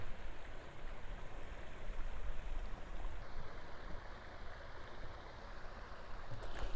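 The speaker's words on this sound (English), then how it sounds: "A lot of water still coming in this lake." Water pours steadily into a lake, a continuous soft rushing wash heard at low level from a short distance, with no voices present.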